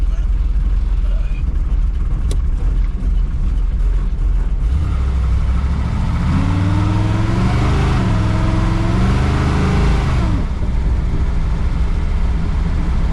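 A pro street car rolling slowly down the road on light throttle, its deep engine rumble steady and close, rising briefly in pitch mid-way, while people talk over it.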